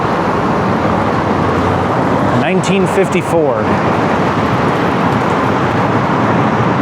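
Loud, steady roar of traffic echoing inside the Nob Hill road tunnel in Ketchikan, Alaska, with a voice speaking briefly partway through.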